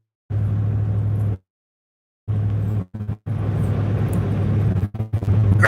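Car interior while driving, a steady low road and engine rumble that drops out briefly, then returns and holds fairly loud to the end.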